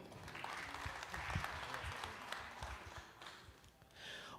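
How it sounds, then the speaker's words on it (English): An audience claps steadily for the panelists at a prison reform conference, sustained applause of many hands at moderate distance filling the room throughout. "One more big round of applause for our panelists"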